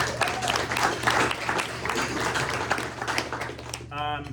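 Audience applause at a press luncheon, a steady dense patter of clapping hands filling the room, holding at a fairly loud level throughout before tapering near the end.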